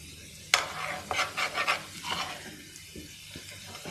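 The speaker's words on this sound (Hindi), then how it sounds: "तड़का बहुत जल्दी बन जाता है" Garlic and chili sizzle for a tadka tempering poured into shola, a sudden hiss followed by a few seconds of crackling, stirring fizz close up that gradually settles.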